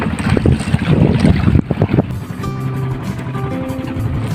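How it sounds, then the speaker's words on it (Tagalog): A boat's motor drones steadily on the way out to sea. Gusty wind buffets the microphone at first, then the engine's even, low hum comes through loud and close. "Kasi napakaingay ng makina ng bangka habang kami papunta sa laot ni Kuya Jubert"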